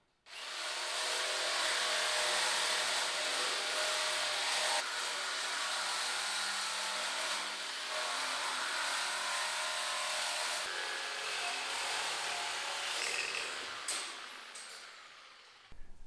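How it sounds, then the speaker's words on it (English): A jigsaw cuts aluminium mesh for a roof rack, a loud continuous buzzing rasp that holds for about thirteen seconds before tapering off and stopping, with faint clinks at the end. "Might be safer with a jigsaw."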